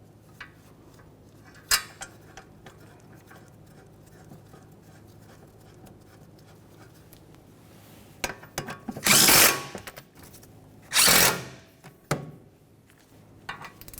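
A power tool buzzes in short bursts while brake caliper mounting bolts are run in and snugged on a 1994-1997 Honda Accord 2.2L four-cylinder, with two longer whirring runs between quiet clanks of tools.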